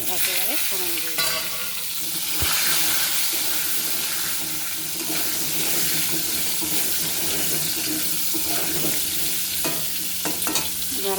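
Potatoes dropped into hot oil with melted sugar for a vegetarian potol dish, hissing in a steady, loud, close sizzle with occasional stirring scrapes and no talking.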